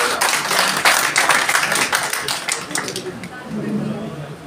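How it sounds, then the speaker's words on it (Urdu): A crowd at a mushaira poetry gathering claps loudly and continuously, the applause thinning slightly toward the end as a murmur of voices rises underneath. "آپ کی زوردار تالیوں کے ساتھ"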